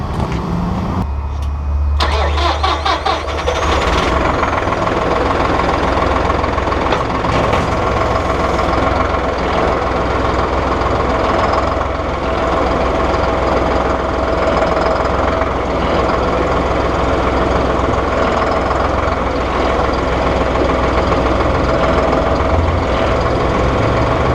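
A Massey Ferguson 4700 Global Series utility tractor engine cranks briefly, catches and then idles loud and close with a steady, even rumble.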